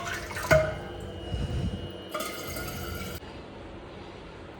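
Water runs into a bottle in a home, a thin trickling fill with a sharp clunk near the start and a brief louder gush before it stops, all fairly quiet.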